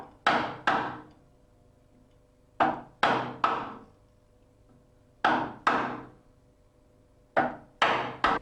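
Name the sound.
chisel being tapped into timber for a hinge recess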